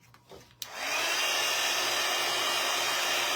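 Hair dryer blowing on a freshly painted wooden bluebird craft kit, a short clack as it switches on, then a steady loud whooshing hum, no talk.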